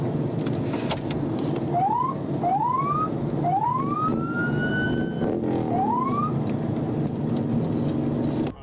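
A police siren in a motorcycle chase, rising wails repeating over a constant loud roar of wind or road noise, heard from a moving vehicle with no voices.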